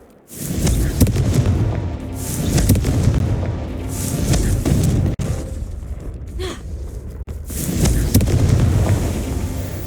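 Fiery Confringo spell blast in Hogwarts Legacy, a loud, sustained booming explosion with rumbling low roar, followed by a second burst after a brief break.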